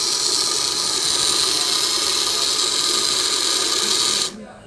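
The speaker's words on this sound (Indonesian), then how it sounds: "Sehingga motor DC pada mesin cuci akan berputar selama 20 detik." Steady whirring hum of the DC motor in a self-service laundry washing machine, running continuously under microcontroller program control and cutting off abruptly near the end.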